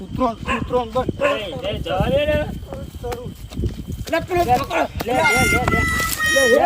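A dog barks several times amid ongoing conversation, with people talking close by throughout.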